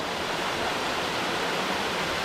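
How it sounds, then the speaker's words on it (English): A small two-tier waterfall, about 20 to 25 feet tall, on a forest hiking trail makes a steady, loud, broadband rush of falling water with no pauses or voices. "there's a waterfall right here. A little two-tier one."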